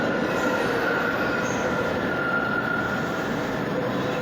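A SEPTA trolley car rolls past on steel tracks at 13th Street Station with a steady rumble and faint high wheel squeal, no voices.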